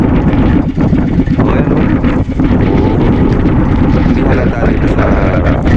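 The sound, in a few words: strong wind at sea on a boat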